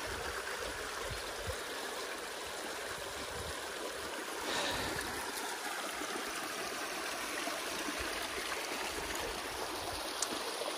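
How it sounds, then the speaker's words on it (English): Water pours steadily out of a drained beaver dam, a continuous rushing, trickling flow that stays broad and even throughout, with no voices heard. "So the water keeps coming."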